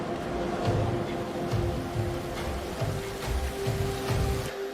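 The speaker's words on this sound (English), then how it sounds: "Fresh water, rain." Rain falling at sea in a Vikings TV episode: a steady hiss of rainfall with soft rhythmic low splashes and a faint tonal hum underneath, no talk.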